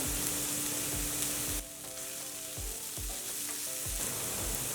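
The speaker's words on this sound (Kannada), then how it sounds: "ಈರುಳ್ಳಿ ಎಲ್ಲ ಕಲರ್ ಚೇಂಜ್ ಆಗಲಿ ಅಲ್ಲಿವರೆಗೂ ಫ್ರೈ ಮಾಡ್ಕೊಳ್ಳೋಣ" Onions with curry leaves sizzle in a pan, a steady close frying hiss broken by rhythmic spatula scrapes and a brief dip in intensity midway, with no talking.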